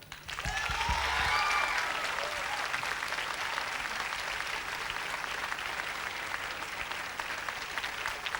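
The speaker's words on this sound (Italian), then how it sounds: "deve salire il più bello degli applausi" Audience applause at an outdoor live concert in Sonnino, a dense sustained wash of clapping that swells early and stays steady, with a brief whistle-like tone near the start.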